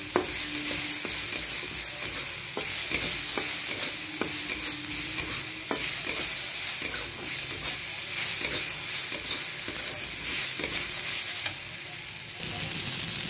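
Tomatoes sautéing in a pan for Indian aloo chole, with a steady broadband sizzle and repeated scraping and clinking of a stirring spoon against the pan throughout, close and fairly quiet with no talking.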